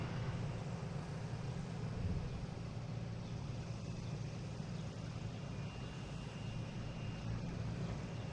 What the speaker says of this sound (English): Took out of Norwood, just circling around. Piper Cherokee.